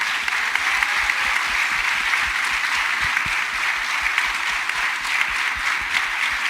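An audience at a media summit gives a round of applause for a student executive board, steady, even clapping from many hands heard alone at a moderate distance.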